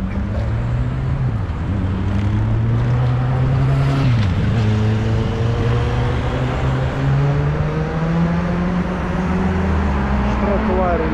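Congested city-centre traffic heard from close by: a loud, steady engine drone whose pitch dips and rises as vehicles creep and accelerate, with voices murmuring underneath.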